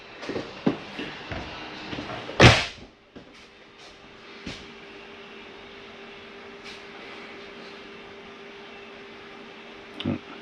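The door of a 2022 XLR Boost 27QB RV slams shut once, a single loud bang near the start, followed by quiet interior room tone and a couple of faint later knocks.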